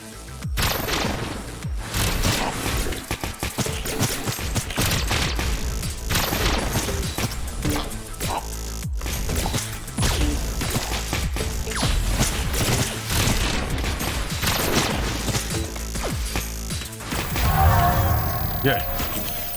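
Rapid gunfire and blasts in the roguelike shooter game Neon Abyss, dense bursts of shots and crashes layered over game music, continuous and loud throughout.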